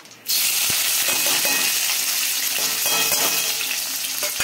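Onion, chilli and curry leaves hit hot oil with mustard seeds and chana dal for upma, and a loud, dense shallow-fry sizzle bursts in suddenly, then holds steady with faint scraping underneath.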